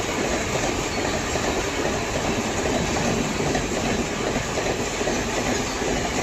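The Sealdah Rajdhani express races through Etawah Junction, its dense, loud, continuous rumble and rapid clickety-clack of wheels on rails filling the platform without pause.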